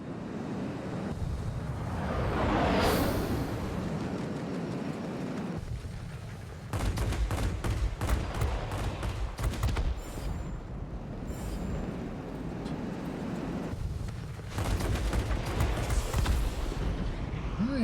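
Aircraft rockets and rapid gunfire in World of Warplanes, with a rushing whoosh early on, then sharp repeated bursts of shots over steady engine and wind noise, fairly loud.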